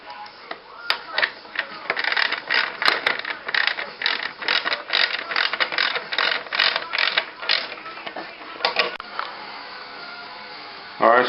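A hand ratchet tightens a bolt on the tail section of a Ducati Monster motorcycle, giving a long run of rapid, close, crisp clicking strokes in an uneven rhythm.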